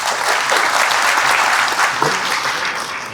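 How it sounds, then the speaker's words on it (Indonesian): Audience applause at a D3 nursing graduation ceremony, a dense, steady wash of many hands clapping at once, loud and close, filling the whole moment without talk. "Tepuk tangan buat mereka semua."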